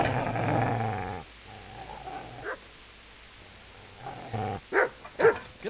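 A dog in the medieval video game Kingdom Come: Deliverance growls in a long, close rumble, then falls quiet before several sharp barks and yelps in quick bursts.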